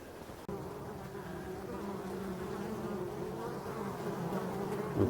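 Honey bees buzz steadily around hives in a forest, a dense continuous hum of many insects close by, with no talking.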